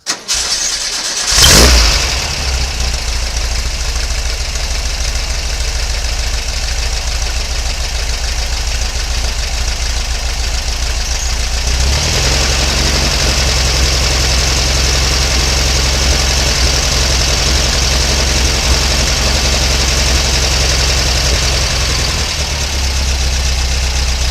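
A Volkswagen car engine cranks and starts in a garage with a sharp burst, then settles into a steady, loud idle that runs on with a slight shift in tone partway through; no one speaks.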